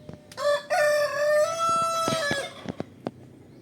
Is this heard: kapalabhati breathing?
no